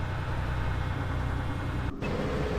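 An APC engine in a Fallout game running steadily, a loud continuous low mechanical drone with a brief dip near the end, with no voices over it.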